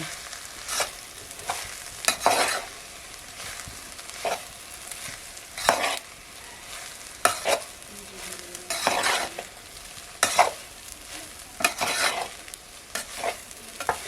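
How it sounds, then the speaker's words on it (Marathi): Poha is stirred slowly in a pan, with a spoon scraping and clinking against the metal in unhurried strokes over a low, constant sizzle, close and without speech. "थोडंसं ढवळून घेते इसको कशी अशी जरा स्लोच आहे जास्त फास्ट नाही ठेवले हो"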